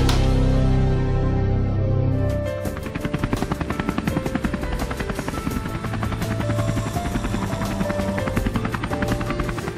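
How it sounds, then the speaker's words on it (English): Helicopter in flight during a limousine and helicopter ride, a loud steady rotor and engine roar with rhythmic blade chop, close and continuous, with music-like tonal layers mixed in. "Ah, helicopter and limousine ride."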